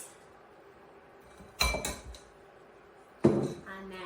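A spoon stirring rinsed tinned beans into onions and spices in a pan gives two brief clattering scrapes against the metal, each followed by quiet.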